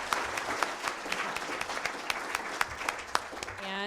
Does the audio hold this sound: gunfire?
no